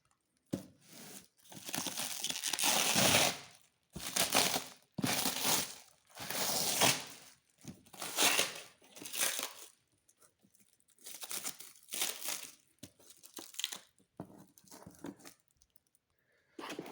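Packaging for a Lenovo Legion 5 gaming laptop being opened, with repeated bursts of close crinkling, tearing and rustling of paper and plastic separated by short pauses.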